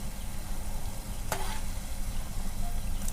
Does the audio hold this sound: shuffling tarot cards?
no